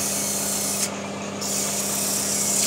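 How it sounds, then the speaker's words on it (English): Steady, loud rasping of sandpaper rubbing against a jarrah wood barrel cup, continuous with slight changes in stroke. "I do give it a good sand"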